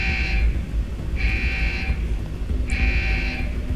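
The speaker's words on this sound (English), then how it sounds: "Are there any alarm panels I can hack to turn this beeping off?" An electronic alarm beeps in the video game Deus Ex: Human Revolution. It gives three loud, steady tones at even intervals over a low background hum, with no voices.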